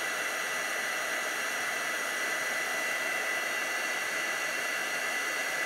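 A heat tool blows steadily while heat setting ink on a handmade teabag-art craft card, a continuous close, even hiss and whoosh of forced hot air throughout, with no talking.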